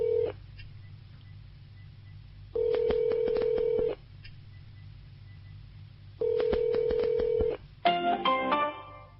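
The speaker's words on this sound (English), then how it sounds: "let me just give him a call now" Telephone keypad tones as a number is dialed: a dial tone sounds in sustained stretches, broken by pauses, and then a rapid run of DTMF button beeps plays near and loud at the end, with no voices.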